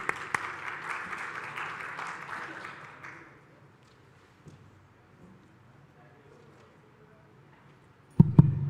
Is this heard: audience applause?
yes